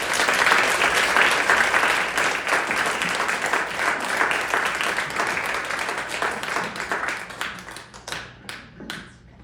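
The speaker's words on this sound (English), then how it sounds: "let's give her a big round of applause." An audience gives a big round of applause for Joan at a storytelling event, dense steady clapping that stays loud for several seconds and then thins into scattered claps before fading out.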